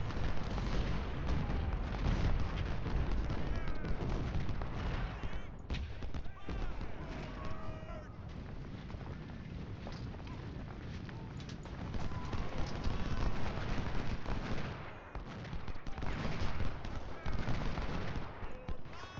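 Continuous musket volleys and scattered rifle fire from Civil War infantry in a strategy game battle, dense crackling shots rolling on without pause, with a faint voice buried in the din.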